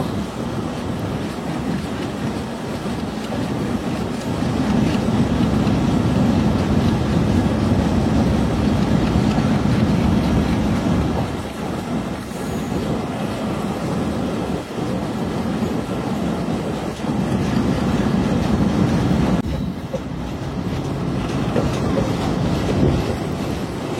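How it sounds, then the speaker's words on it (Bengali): The Nakshi Kantha commuter train rumbles steadily on its run toward Shibchar station, a loud continuous rolling roar with faint clickety-clack, easing briefly before the noise picks up again as it enters the station. "আর আমাদের ট্রেনটি এখন শিবচর রেলওয়ে স্টেশন প্রবেশ করলো।"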